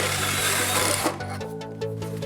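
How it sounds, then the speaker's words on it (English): A power drill is used to remove a subframe bushing on a BMW E53 X5, whirring loudly in a dense mechanical burst that drops off after about a second into quieter rattling and clunks. "Let's grab our drill."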